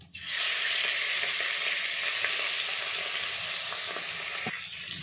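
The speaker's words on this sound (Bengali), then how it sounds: "এখন আমি রুই মাছের মাথাটা ভেজে নেব।" A rohu fish head fries in mustard oil in a wok, a loud, steady close sizzle that starts suddenly and holds evenly, with faint crackles and a soft clatter near the end.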